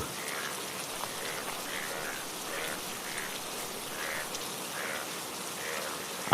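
Steady rain hisses continuously, an even wash of falling water with faint patter throughout and no voices.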